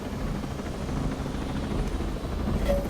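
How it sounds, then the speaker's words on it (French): A four-seat helicopter in the video game Ghost Recon Breakpoint drones with a steady low rotor thrum, close and continuous, with no voices over it. "Il y a les hélicoptères qui a 4 places"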